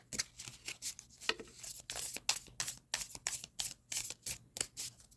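A deck of oracle cards is shuffled by hand in close, quiet bursts of riffling and sliding, repeating in an irregular rhythm of short rustling strokes.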